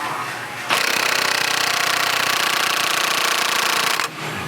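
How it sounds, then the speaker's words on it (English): An impact wrench hammers on a clutch puller during a Pro XP Stage 2 clutch kit install. It gives one loud, steady burst of rapid rattling blows lasting about three seconds, close by, with quiet before and after. "Now go ahead and run the impact on it a little harder."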